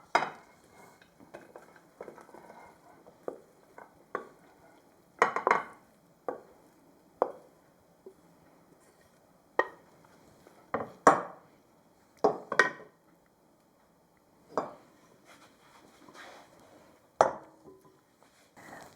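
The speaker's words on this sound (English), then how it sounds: "We're going to put this into a pan and we're going to bake it" Vegetarian stuffing is spooned and scraped into a baking pan in a run of irregular, sharp knocks and clatters of utensil on pan, close and fairly quiet between hits, with no talk.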